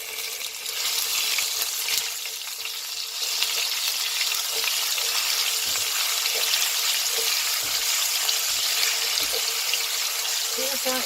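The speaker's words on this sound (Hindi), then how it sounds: "तो मैं ऑयल के बाद मैं इसके अंदर डाल देती हूँ जिंजर गार्लिक पेस्ट" Ginger garlic paste sizzles steadily in hot oil in a pot being readied for haleem, a loud continuous hiss with faint clinks of a spoon throughout.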